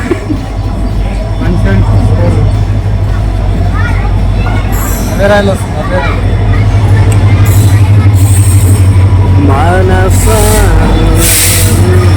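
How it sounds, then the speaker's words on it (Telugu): A train pulls into a busy station on the Hyderabad to Basar route, its engine rumbling low and steady with hissing brake releases and squeals, under crowd hubbub and people talking nearby. "మేము పోయే ట్రైన్ వచ్చింది చూడండి."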